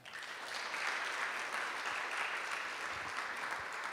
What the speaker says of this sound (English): We can make an applause for Asta, Daina, Julia, and Martynas once again.